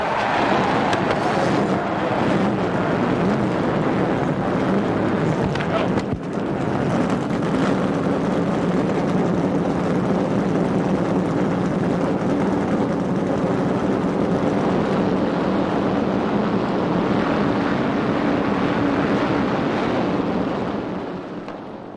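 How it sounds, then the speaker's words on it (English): Forty-two Daytona 500 race car engines firing up together, a loud dense roar that fills the air continuously for over twenty seconds with a brief dip early on, and no voices over it. "Gentlemen, start your engines."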